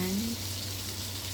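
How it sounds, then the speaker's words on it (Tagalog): Butter melting in a pan gives a continuous hissing sizzle close by, with a steady low hum underneath and a brief tonal sound at the start. "Tunawin muna yung butter."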